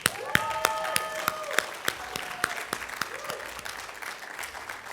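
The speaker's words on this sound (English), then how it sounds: "Let's give them a round of applause." An audience at a stage event breaks into applause, a steady run of separate handclaps at moderate distance that carries on throughout.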